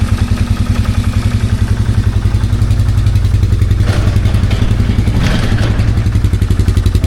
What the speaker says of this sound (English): Looks like somebody put a cherry bomb exhaust on this thing.